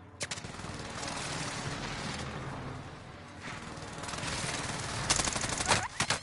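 Continuous close gunfire in Call of Duty Warzone, with rapid automatic bursts and layered shots that swell near the end, played with no talk over it.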